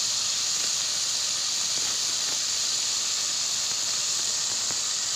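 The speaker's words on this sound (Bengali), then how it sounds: "পেস্টটা দিয়ে এটাকে কিছুক্ষণ ভাজতে হবে।" Mustard and ginger paste frying in a pan for shorshe potol, a steady soft hiss of sizzling oil running throughout with a few faint clicks, close and even, no voices.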